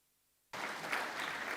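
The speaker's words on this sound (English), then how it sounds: "Let's give them a round of applause." A school audience at a high school leadership induction ceremony bursts into applause after a brief silence, a sudden full round of clapping that stays steady to the end.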